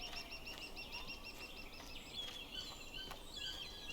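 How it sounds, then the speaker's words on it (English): Outdoor birds in the game Route 96 call faintly in the distance, a mix of high chirps and gobbling fowl-like notes repeating irregularly over a quiet ambient background. "You can hear the birds and stuff."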